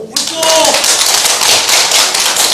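An audience at a citizens' public forum bursts into loud, dense applause that starts abruptly after a moment of talk and keeps going strongly to the end.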